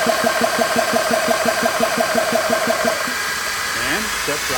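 A slow-running air compressor thumps in an even, rapid pulse at close range, then cuts off near the end, leaving a quieter hiss and a brief rattle.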